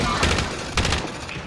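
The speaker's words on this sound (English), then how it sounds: "Receiving hostile fire." Hostile gunfire in the Warzone battle royale game on a new map, dense rapid bursts of shots in two clustered volleys, loud and close, with a voice faintly mixed underneath.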